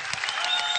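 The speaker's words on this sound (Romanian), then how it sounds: "un rând de aplauze să simt energia care trebuie" Audience applause at a stand-up comedy show, a short steady burst of clapping from the crowd filling the room at moderate loudness with no voices over it.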